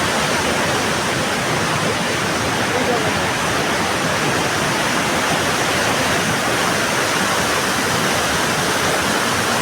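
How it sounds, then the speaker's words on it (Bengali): Usri Falls waterfall roars as a dense, constant rush of water, loud and close, filling the whole stretch without a break. "ওই সাইড ওখান থেকে ঝর্ণা আসছে"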